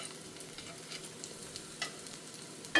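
Banana slices fry in ghee in an iron pan and are flipped over, giving a soft steady sizzle with light scraping and stirring clicks, ending in a sharper clatter as a slice is turned.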